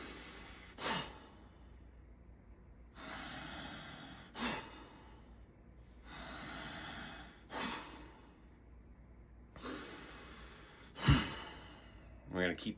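Forceful breathing exercise: a slow cycle of long airy inhales and sharp, pushed exhales, repeated about five times at close range, with one especially strong burst near the end.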